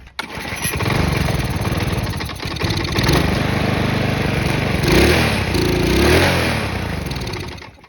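A Craftsman lawn mower with a Briggs & Stratton engine, run after sugar was put into its intake, roars loudly and steadily for the whole stretch, its pitch rising and falling as it revs.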